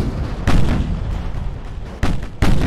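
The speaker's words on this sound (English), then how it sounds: "Got the Fuso out here broadside on to the Ohio with their 18-inch guns." The Fuso's 18-inch naval guns firing broadside in Ultimate Admiral Dreadnoughts, heard as heavy, loud booms over a steady rumbling battle bed: one big blast early, then two more sharp reports close together near the end.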